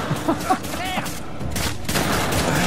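Gunfire crackles in a furious assault sequence in Uncharted: The Lost Legacy, a dense fusillade of shots continuing steadily at close range after a few brief sharp sounds.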